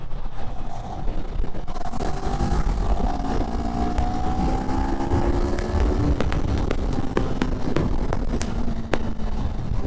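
A CFMOTO 650NK motorcycle pulls hard in third gear, its engine note rising steadily under heavy wind rush, with sharp mechanical ticks and clicks scattered throughout.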